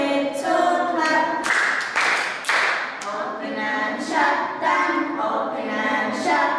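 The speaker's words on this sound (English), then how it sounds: "give a little clap" A few sharp hand claps land amid a children's action song, mixed with singing voices in a steady sing-along rhythm.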